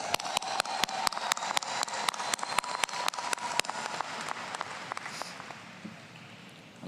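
Commencement audience applauding for the Roxbury Community College class of 2025, led by a steady, rhythmic clapping beat over a wash of crowd clapping that fades away after about five seconds.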